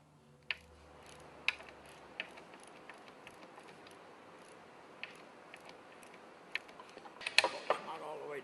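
A torque wrench tightening on an aircraft propeller gives a few sharp, distinct metallic clicks spaced over several seconds, with a cluster of louder clicks near the end against a quiet mechanical background.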